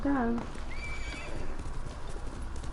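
A horse in the video game Ghost of Tsushima gives a short, loud whinny at the very start, then falls away into quieter game ambience and soft hoof clip-clops.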